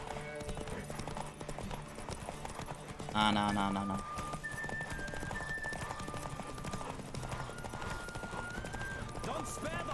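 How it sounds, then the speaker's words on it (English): Galloping hooves from a horse race in The Witcher 3 video game drum along steadily, with a sharp neigh partway through, game music tones, and a voice speaking briefly. "Don't spare the horse!"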